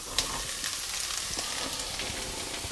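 Onion and celery sizzle steadily in a frying pan, a continuous close hiss with faint scattered crackles and no talking.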